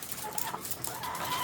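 Laying hens at a poultry farm cluck softly and repeatedly, several birds at moderate distance over a steady background hum, with no talking.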